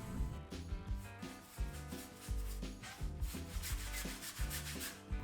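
A brush spreads primer over rabbit-skin-glue-sized canvas in crisscross strokes, making a steady, close rhythmic rubbing and scratching with no voices.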